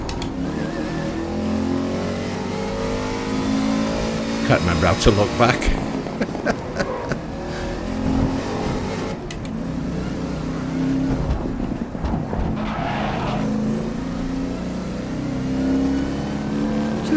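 A race car engine revs and hums steadily with shifting pitch through a racing lap in the GRID video game on Xbox One X, while someone talks over it almost throughout.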